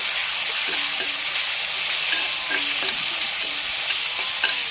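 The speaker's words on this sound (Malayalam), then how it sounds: "അതെല്ലാം ചെറുതായിട്ടൊന്ന് അരിഞ്ഞ് ഒന്ന് വഴക്കിയെടുക്കുകയാണ്" Chopped shallots sizzle loudly in a pan, with repeated scraping and clinking of a spoon stirring them at an irregular rhythm.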